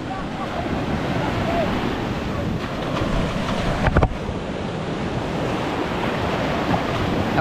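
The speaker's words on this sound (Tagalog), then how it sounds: "Oh, malaki alon." Large ocean waves surge around small boats making a rough sea crossing, a loud, continuous roar of surf mixed with heavy wind buffeting the microphone.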